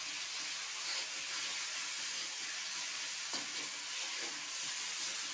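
Ground spice paste of ginger, cumin and chilli sizzles steadily in a pan over fried onion and garlic, a continuous close frying hiss with one brief clink partway through and no talking.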